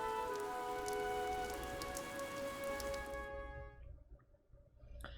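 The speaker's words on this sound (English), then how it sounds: "This rain threatens a coming storm." Rain in the video game Fire Emblem Three Houses, a dense steady hiss of drops on surfaces under a sustained musical drone that cuts off partway, leaving softer patter and scattered drips.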